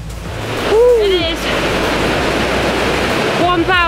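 Steady broadband roar of the Krimml Waterfalls in Austria, the country's largest waterfall with a 380-metre drop, heard close and loud throughout, with brief bird-like whistles and a voice in the background.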